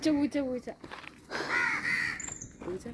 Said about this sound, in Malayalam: കാക്കച്ചി രാവിലെ തന്നെ വന്നിക്കണല്ലേ